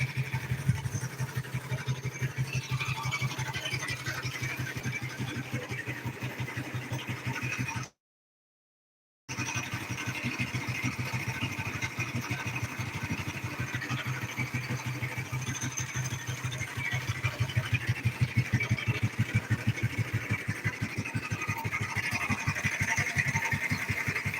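A cold 50cc moped engine idles on choke, running steadily with a rough, buzzing mid-range drone. A brief total dropout cuts the sound partway through, and the idle then continues and grows slightly louder.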